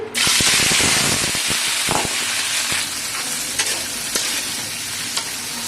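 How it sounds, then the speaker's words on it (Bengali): Vegetables including beans, carrots and peas hitting hot oil in a wok, a loud, dense sizzle that starts abruptly and holds steady, broken by a few sharp crackles and pops, with no talking. "তেল গরম হয়ে গেছে এখানে আমি সবজিগুলো দিয়ে দিচ্ছি"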